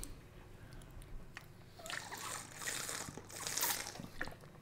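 Water sloshes and trickles in the video game My Garage as a character takes a drink, a faint liquid gurgle that swells and splashes over a few seconds with no speech.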